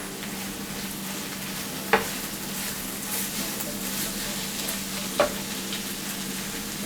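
A pan of masala for mushroom chicken roast, thickened with cornflour, is stirred over steady low sizzling, with two sharp spoon scrapes against the pan standing out briefly.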